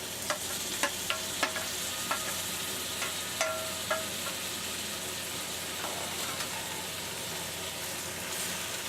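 Tomatoes fry in a pan with ginger and garlic for egg curry, a steady broadband sizzle under repeated sharp scrapes and taps of a stirring spoon, clustered in the first few seconds and thinning later.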